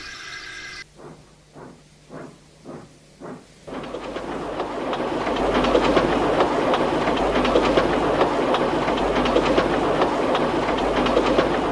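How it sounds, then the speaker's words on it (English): A steam locomotive puffs into a big station in the rain, a handful of distinct chuffs giving way to a loud, steady rolling rumble with clattering wheels and hiss, no voices. "Henry puffed into the big station."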